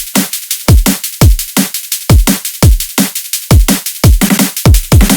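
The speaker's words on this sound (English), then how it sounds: "The drums on the first drop sounds like this" Punchy drum and bass drum pattern from the first drop of a remix, with hard kicks and snares hitting in a fast, driving rhythm, loud and alone with no voices.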